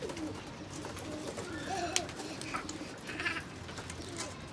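Pigeons kept for sale at a market in Lahore coo and call softly, with several overlapping bird sounds and occasional bleats in the background, fairly close and moderately quiet.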